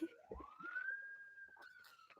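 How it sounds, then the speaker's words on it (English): A faint emergency vehicle siren rises and holds a long wailing tone in the distance, approaching, with scattered quiet background noises. "Do you guys hear the sirens?"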